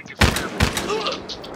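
Desert Eagle pistol fire in Battlefield Hardline: two loud, sharp shots about half a second apart, each with a short ringing tail, followed by quieter game noise and a faint voice.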